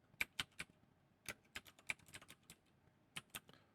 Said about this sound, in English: Once again, I will speed up the typing to save you some time.